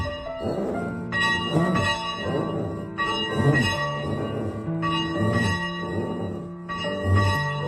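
Bell of Greensky Hill Indian United Methodist Church ringing on Christmas Eve, repeated resonant strikes roughly every two seconds with long sustained overtones, loud and steady with no talk.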